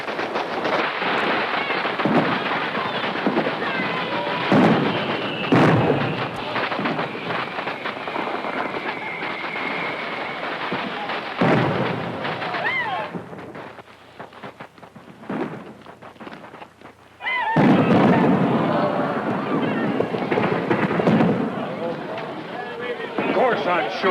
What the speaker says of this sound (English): the fireworks are gonna start